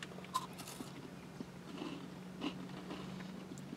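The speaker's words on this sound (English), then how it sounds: "It has like that crunch of a Kit Kat" A crunchy Reese's wafer bar is bitten and chewed up close, faint crisp crackles and a few soft crunches at a low level, with no talk over them.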